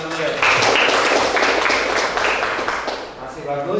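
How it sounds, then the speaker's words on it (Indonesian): A school class claps together in a classroom, a dense burst of applause filling a few seconds before tapering off, with a voice faintly audible near the end. "Tepuk tangan dulu ya."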